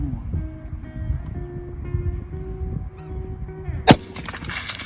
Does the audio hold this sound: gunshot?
yes